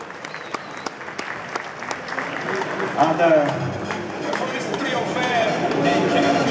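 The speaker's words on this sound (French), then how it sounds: "On peut les applaudir encore une fois." Audience applause at a Montbéliard cattle breed show: dense, steady clapping from a large crowd that swells and grows louder over several seconds, with some talking underneath.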